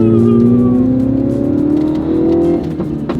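A 2019 Mini JCW exhaust booms loudly under hard acceleration on a twisty road, its tone climbing steadily and then easing off near the end, with no talking.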